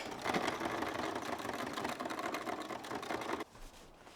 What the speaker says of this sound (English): I think this is the bit that the sewing machine is going to hate the most because it's so many layers of fabric.